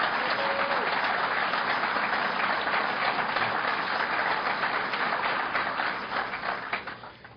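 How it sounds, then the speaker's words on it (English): Audience at a Suffolk County budget address by Governor Cuomo breaking into sustained, dense applause that holds steady for several seconds before starting to thin out at the end. "let's give the sister a round of applause for us"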